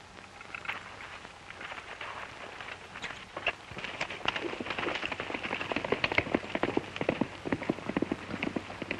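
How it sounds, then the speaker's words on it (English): Hooves clip-clop in an irregular, quickening patter, growing louder and busier toward the end, with no talking. "Stony, how about using your horse? He's faster than mine."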